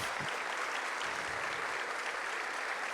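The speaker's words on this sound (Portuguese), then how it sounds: "Uma salva de palmas calorosa para o Ney." Steady, warm applause from the audience at a national sugar beet seminar, a dense wash of many hands clapping continuously for the whole stretch with no pauses.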